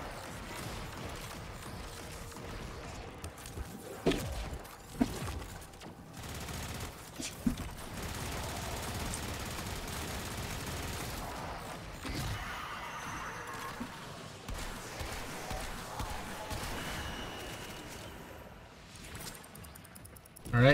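Rapid automatic gunfire and weapon impacts from a Warframe firefight, dense bursts running nearly continuously with sharp loud spikes, mixed with game effects and no clear talk.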